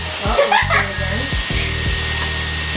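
Dyson Airwrap hair styler blowing air, a loud whirring motor with shifting pitch as it starts and changes speed, close by, with brief talk near the start.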